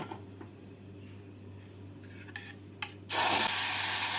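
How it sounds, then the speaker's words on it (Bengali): Dried red chilli and fenugreek seeds hit hot oil for tempering, a quiet kitchen giving way to a sudden loud, sustained sizzle that starts partway through and keeps hissing to the end. "এর মধ্যে ফোড়নে দিচ্ছি একটা শুকনো লঙ্কা আর অল্প মেথি"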